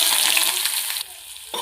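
Small onions sautéing in oil for a curry leaf chicken sukka, a loud close sizzle with stirring that drops off sharply partway through, then quieter crackle.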